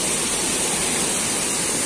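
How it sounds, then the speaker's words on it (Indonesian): Cold, clear mountain river water in Indonesia rushes steadily in a dense, broadband wash, close and continuous with no voices over it. "kalian saya bawa lihat sungai terlebih dahulu"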